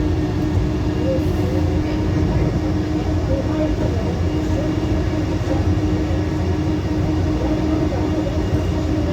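Inside an airport metro train running between Dubai airport terminals, a steady rumbling ride noise with a constant hum fills the whole stretch, with no pauses or distinct events.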